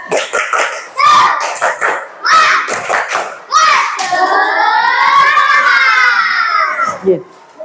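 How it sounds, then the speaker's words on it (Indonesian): A school class performs a rhythmic spirit clap, with bursts of patterned hand claps alternating with children's chanted voices, close and loud, ending in a long sung vocal phrase. "Tepuk semangat."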